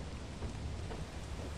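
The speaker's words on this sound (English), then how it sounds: "It's raining now." Steady, dense rain with a rumble of thunder in the Lethal Company video game, a continuous wash of sound heard on its own without voices.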